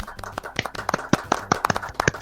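Rapid, uneven hand claps close to the microphone, a quick irregular patter of individual claps with some voices faintly underneath.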